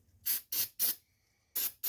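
Five short, sharp hisses from an aerosol can of starting fluid, sprayed in quick bursts with brief pauses between them, close to the microphone.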